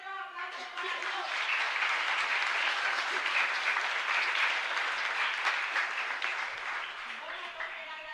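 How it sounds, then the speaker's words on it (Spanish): Sustained applause from a church congregation during a live patronal-feast mass, a dense steady clatter of many hands that rises quickly and holds loud and even for several seconds before easing slightly at the end. "Fuerte los aplausos para todos."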